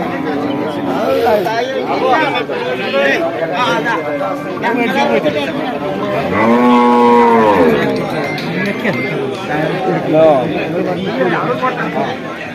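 A buffalo lows loudly at a busy festival-time cattle market, its long drawn-out moo standing out over a steady din of nearby chatter and crowd voices.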